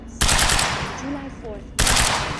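Bursts of automatic gunfire in the video game Quantum Break, two loud dense volleys separated by a quieter stretch with faint tones, close and harsh.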